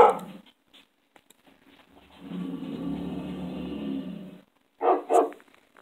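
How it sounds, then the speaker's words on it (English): A dog barks and snarls in short bursts, then a long, low growling rumble holds for a couple of seconds before two sharp, loud yaps close it out, all close by with no talk. "Other dogs barking and snarling"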